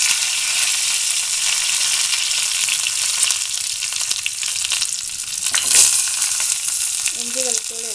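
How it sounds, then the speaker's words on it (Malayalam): Curry leaves fry in hot coconut oil just after mustard seeds have popped, for a Chinese potato stir fry. A loud, close, continuous sizzle and spatter runs throughout with a brief louder burst midway, and a faint voice comes in near the end. "കടുക് പൊട്ടിയതിന് ശേഷം കറിവേപ്പില ഇടുന്നു."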